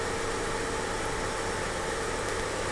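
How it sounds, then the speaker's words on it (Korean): A car engine running at a steady idle after starting, during a check of the idle speed control actuator: a continuous, even hum with a faint vibration and no talk. "차량 시동 걸고"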